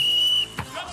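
A single sustained referee's whistle blast at a Sunday league football match, clear and fairly close, cutting off after about half a second and followed by a faint thud.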